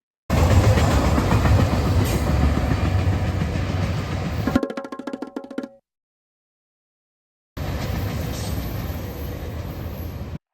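A freight train rumbles and clatters past loudly and close for several seconds, then the sound cuts to a brief fading rattle and silence before the rolling roar resumes.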